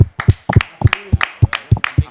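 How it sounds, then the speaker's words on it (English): Several people clap in a quick round of applause, about a dozen sharp, close hand claps in an uneven rhythm. "Bro, just could we have one more round of applause for that?"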